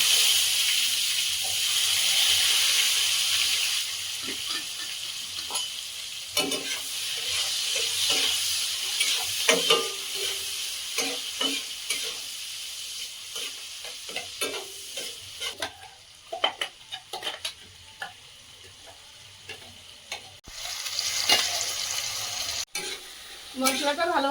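Chopped onion and cinnamon frying in oil in a wok, a steady hissing sizzle broken by repeated scrapes and clatters of stirring, fairly close and without voices.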